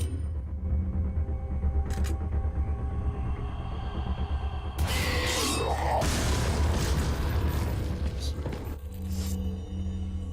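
A rocket launcher fires in Resident Evil 4, with a sudden loud blast near the middle that rolls into a long rumbling roar over steady low game ambience and background music.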